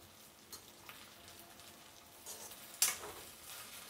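Chopped okra (bhindi) fries in a pan for a halwai-style masala. A faint, steady sizzle runs under light stirring, followed by a sharper clatter of a utensil toward the end, and no one speaks.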